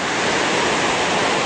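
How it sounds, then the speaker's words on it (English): A rapidly flowing, boulder-filled river below a dam rushes in a steady, dense roar that fills the whole clip, close and continuous with no voices. "the river does move quite rapidly"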